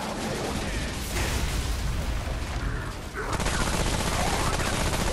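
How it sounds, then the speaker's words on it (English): Dense gunfire from a gun in Remnant: From the Ashes, a steady stream of loud shots and impacts against enemy minions, with a brief lull before the shooting resumes, voices faintly under it. "This gun is so good against these dumbass minions."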